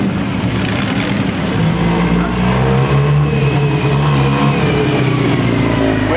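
A Bugatti Brescia Type 13 race car with racing bodywork accelerates at a Bugatti festival in Molsheim, its engine a loud, rough, continuous roar close by that climbs in pitch as it revs.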